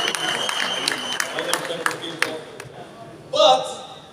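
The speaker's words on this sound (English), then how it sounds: "All the French team, big round of applause." An audience at a corporate members' event claps moderately in a scattered, uneven way while a voice speaks over it, ending with a short bright tone.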